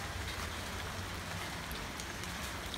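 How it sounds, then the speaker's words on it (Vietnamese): Steady rain falling outdoors at a casual meal of wine-steamed snakehead fish, a dense even hiss of drops pattering on surfaces throughout, with a low rumble underneath and no voices. "Bây giờ báo cáo với cả nhà là tình hình là trời đang mưa nha cả nhà."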